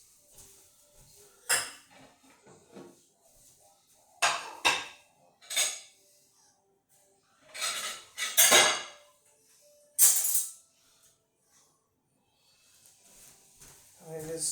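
Dirty dishes, cups and cutlery clink and clatter in bursts while a home kitchen is cleaned, with sharp knocks scattered between quiet gaps and a voice speaking at times.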